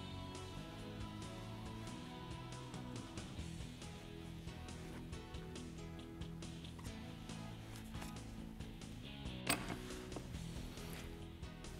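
A bead roller fitted with rounding-over dies cranks a strip of 20-gauge steel through, giving a steady run of mechanical clicking, grinding and creaking at close range with one sharp louder clack near the end.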